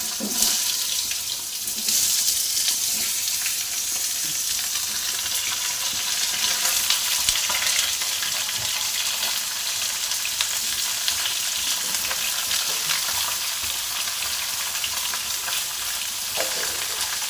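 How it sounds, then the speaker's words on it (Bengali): Pumpkin, potato, eggplant, beans and radish fry in hot oil in a steady, loud, hissing sizzle that runs without a break, with faint scrapes and clinks near the start. "এক এক করে আমি সব সবজিগুলো তেলের মধ্যে দিয়ে দিলাম।"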